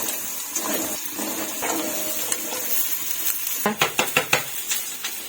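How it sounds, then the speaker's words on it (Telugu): Potato pieces frying in a pan on a home stove with a soft steady sizzle, followed near the end by a quick run of sharp scraping clinks as a utensil stirs them against the pan. "నేను కేవలం ఇదిగో ఫ్రై మాత్రం చేస్తున్నాను"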